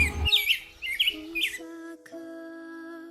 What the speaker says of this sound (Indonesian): Burung-burung sudah mulai berkicauan.